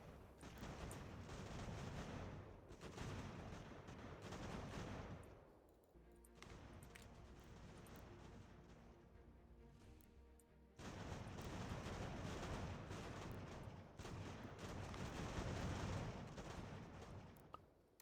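Cannon blasts and musket gunfire boom and crackle through an American Revolution video game battle, loud and dense, easing briefly in the middle before the barrage picks up again.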